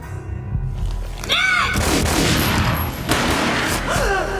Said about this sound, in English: The gunshot boomed and she fell down in slow motion.